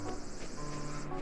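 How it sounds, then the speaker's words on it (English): Steady insect-like cicada drone from the summer ambience of Animal Crossing: New Leaf during a bug-catching contest, a continuous high buzzing texture with no talk. "I don't think I'm going to win with these cicadas."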